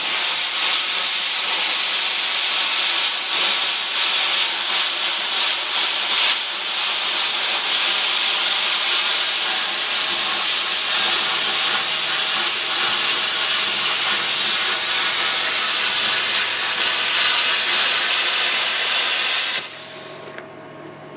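A VEVOR 50 amp non-touch pilot arc air plasma cutter slices through metal with a loud, continuous close-up hiss and roar lasting about twenty seconds, then the cut ends and the sound cuts off abruptly.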